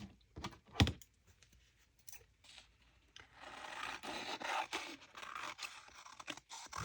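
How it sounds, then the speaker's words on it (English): Transparent washi tape faux stamps being cut out, with faint close scissor snips and papery scratching and rubbing at low level. "Now I'll show you a couple ways that you can cut these."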